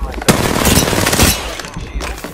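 Rapid automatic gunfire in the Apex Legends battle royale game: dense, loud bursts of shots rattle almost continuously, then thin out to a few scattered cracks near the end, with in-game voice callouts mixed in.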